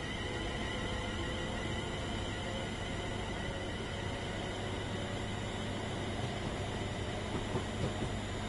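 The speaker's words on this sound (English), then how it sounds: "I think this train is new" A train in a UK railway video game on PS5, a steady loud rumble of wheels on rails with continuous clatter and hum throughout, no pauses and no voices.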